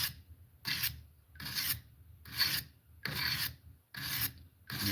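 A chisel blade is sharpened by hand in slow, even strokes, each a raspy grinding rub followed by a short pause, about six passes, close and quiet with no voices.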